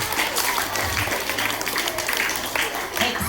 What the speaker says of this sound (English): Give these boys and girls a great big round of applause.